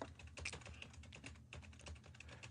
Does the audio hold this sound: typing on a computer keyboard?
yes